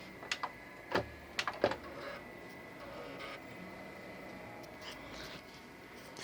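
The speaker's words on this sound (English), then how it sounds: "this tray is stuck. Keeps trying to eject." A stuck Xbox 360 disc tray clicks and whirs as it repeatedly tries to eject, with a cluster of sharp mechanical clunks early on, then a steady electronic hum and faint motor buzzing.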